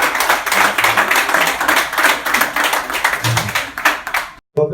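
Wedding guests applaud with dense, sustained clapping at close range for several seconds before it cuts off abruptly.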